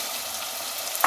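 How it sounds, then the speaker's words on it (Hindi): Potatoes and masala fry together in a pan with a steady close sizzle, ending in a brief sharper crackle or stir sound. "अब इसको आलूओं के साथ भून लें।"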